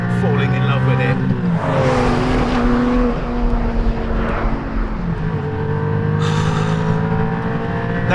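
A 2020 Porsche 718 Cayman GT4 sports car drives hard, its engine note climbing and falling through gear changes, loud and close, with a voice talking over it.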